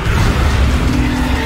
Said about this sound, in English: the explosion's right behind me!